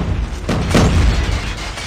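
MAC-10 submachine gun shots on a Call of Duty Mobile practice range, a couple of loud, booming bursts close by with a lingering rumble between them.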